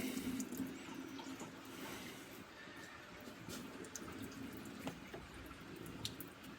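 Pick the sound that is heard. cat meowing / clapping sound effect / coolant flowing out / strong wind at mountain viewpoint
coolant flowing out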